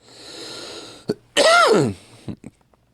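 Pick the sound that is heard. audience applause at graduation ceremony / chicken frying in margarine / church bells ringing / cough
cough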